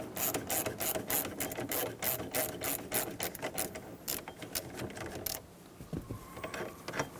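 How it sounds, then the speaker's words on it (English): Steering wheel puller working on the steering wheel of a 1988-1999 GMC K1500 pickup: rapid close ratcheting clicks from a tool turning in quick bursts, then a pause and a few slower clicks and knocks, with no talking. "Using a steering wheel puller, we're going to pull the steering wheel."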